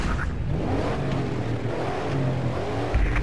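Ford Mustang engine in the GRID 2 racing game on the California Pacific Highway, a steady loud drone that climbs and revs on its own with no voices.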